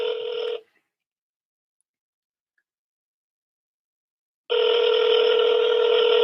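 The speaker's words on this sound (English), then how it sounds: "Wow, I'm still talking to you and it started ringing again." A phone ringing back on a call, two bursts of a steady tonal ring separated by about four seconds of silence, close and clear with no talk.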